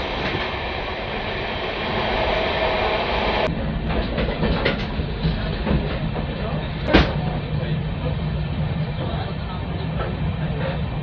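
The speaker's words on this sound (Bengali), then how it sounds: "বিধাননগর রোড পাস হচ্ছে ট্রেন।" Humsafar Express running at speed between Sealdah and Jalpaiguri Road, a steady loud rumble of wheels and carriage with rattling clatter throughout and a brief sharp knock midway, heard from inside the train.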